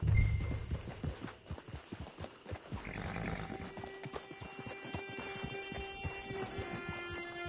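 Horse hooves clip-clopping at a walk in the Red Dead Redemption Online video game, a steady close rhythm of hoofbeats with a brief whinny partway through, over soft background ambience.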